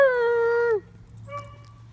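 A dog lets out one long, high howl that bends downward at the end, followed by a fainter, shorter whine.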